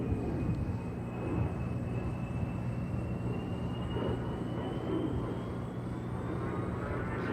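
An A-10 Warthog jet rolls slowly during an air show at NAS Oceana, a steady distant engine roar and whine holding evenly under faint crowd and public-address background.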